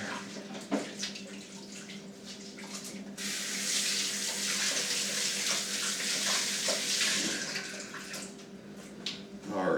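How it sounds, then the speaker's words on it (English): Hands being washed under a running kitchen tap while preparing a bird for roasting, a steady close gush of water that swells louder midway, with small splashes and hand movements and no talking. "Just wash my hands here."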